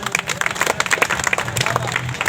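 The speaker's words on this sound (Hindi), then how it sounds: "चलिए एक बार तालियां हो जाए।" Audience applause at a community gathering in Kaimo Patratoli, a steady burst of many hands clapping close by, dense and continuous for a couple of seconds with crowd murmur underneath.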